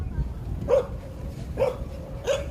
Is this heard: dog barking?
yes